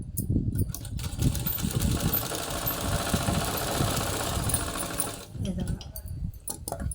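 A sewing machine stitching the fall onto a saree runs steadily and close for several seconds with a dense mechanical whirr, stopping briefly near the end, while someone talks over it.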